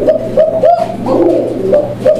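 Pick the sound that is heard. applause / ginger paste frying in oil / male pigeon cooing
male pigeon cooing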